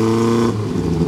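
Ford Taunus car engine idling steadily and loud up close, a low rumbling hum that dips slightly midway as the gear lever is moved into first gear; no talking.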